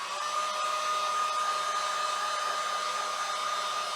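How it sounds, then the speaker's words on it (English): A heat gun drying paint on a home decor piece gives a steady, close, high-pitched blowing whir that holds constant throughout, with no talking. "I'm just going to go ahead and use my heat gun to dry this"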